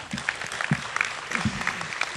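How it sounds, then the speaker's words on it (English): Brief burst of audience applause, a dense patter of many hands clapping filling the room. "deserves, of course, another round of applause"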